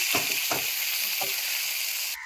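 Loitta fish nearly done frying in a pan: a bright, constant close-range hiss of hot oil with a few soft stirring scrapes, cutting off abruptly at the end.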